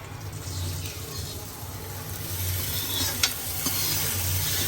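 Tadka sizzling and frying in a pan while sheer is cooked for Eid, a continuous crackling hiss with stirring scrapes, close and steady, with faint voices in the background.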